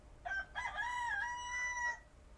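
A rooster crows at dawn in the video game Garbage Hobo Prophecy, one full cock-a-doodle-doo call rising and holding steady, clear and alone over quiet ambience.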